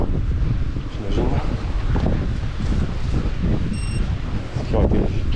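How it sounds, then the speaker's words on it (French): Strong outdoor wind buffets the microphone with a constant low rumbling roar, broken by gusty surges, while someone speaks French faintly underneath. "En même temps, c'est le vent."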